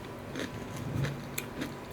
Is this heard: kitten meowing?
no